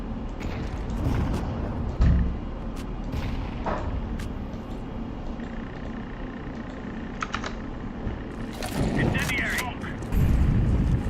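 Grenade blast in the shooter CS2: a dull, low thump early on and another near the end, set against constant close keyboard clatter and scattered game effects.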